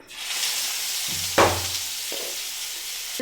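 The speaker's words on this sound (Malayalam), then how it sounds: "ഇനി ഞാൻ ഇറച്ചി അങ്ങ് ഫ്രൈ ചെയ്ത് വെക്കാം എണ്ണ ചൂടായിട്ടുണ്ടേ നമുക്കിനി ഇതിങ്ങനെ ഫ്രൈ ചെയ്തെടുക്കാം" Chicken pieces frying in hot oil, a loud continuous sizzle close by, interrupted by a sharp burst of crackling as pieces are moved, and a few low clunks of the pan.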